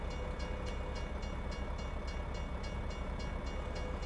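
A freight train rolls past a road crossing in American Truck Simulator, a steady low rumble carrying evenly spaced clickety-clack beats from the wheels, heard fairly faintly and without talk.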